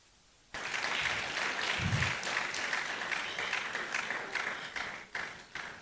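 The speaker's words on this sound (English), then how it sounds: "Please, let's keep clapping." A seminar audience at a career event breaks into sudden applause after a quiet moment. The clapping is full and sustained from a sizeable crowd and thins toward the end, with a brief low thump partway through.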